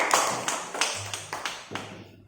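A classroom claps for a student group: a few sharp, separate claps in an uneven rhythm, each ringing briefly in a reverberant room, then fading.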